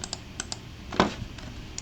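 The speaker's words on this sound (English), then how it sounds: "Then I can also type here" Keys on a computer keyboard are tapped in a short burst of quick clicks, one press landing noticeably louder, close up and without talking.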